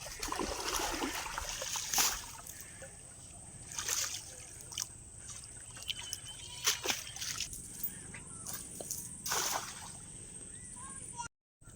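Water sloshes and splashes in bursts as a fishing net is washed in a Sundarbans waterway, with irregular close splashes over a light watery background and a faint voice in places.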